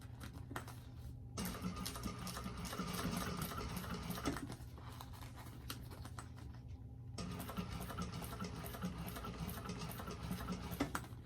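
A sewing machine stitches along a single backpack panel in quick runs of rapid mechanical chatter, pausing briefly twice before starting again, close and fairly quiet.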